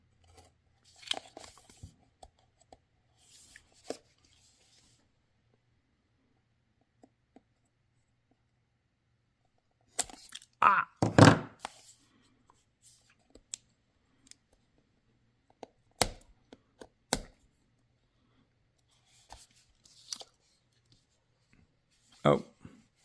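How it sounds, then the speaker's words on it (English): A sealed mystery box of PCGS graded coins is cut open with scattered sharp scraping and cutting sounds in short bursts separated by quiet gaps, close by, with talk between them. "trying to cut from the wrong side"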